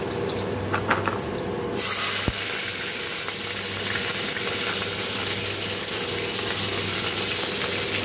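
Garlic goes into hot oil in a wok, and a sudden loud, bright sizzle bursts in and then holds as a steady crackling hiss, with no speech.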